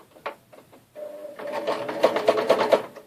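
A domestic sewing machine runs straight stitching for a few stitches, its rapid mechanical whir starting at about a second and building to a steady, close, fairly loud hum with a regular pulsing rhythm.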